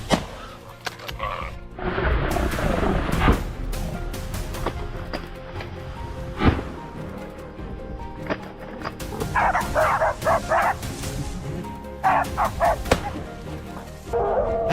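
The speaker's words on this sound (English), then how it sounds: "I suddenly heard the hunting dogs barking, their sound growing louder by the second." Hunting dogs bark in scattered bursts, a mix of deep woofs and higher yips, some close and loud, others farther off, over a steady outdoor rumble.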